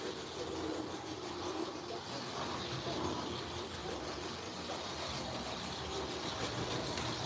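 A model train runs around a Christmas tree at low throttle, its motor freshly cleaned and lubricated with gun oil, giving a steady, even whir that holds without a break.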